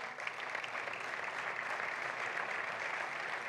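An audience at a basketball Hall of Fame ceremony applauds in a continuous, even wash of many hands, moderately quiet and somewhat distant, with no clear talk on top.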